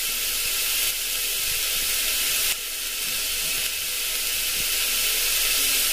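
Daliya sautéing in a pan, heard as a loud, steady sizzling hiss that runs without a break from start to finish, close and with no talking.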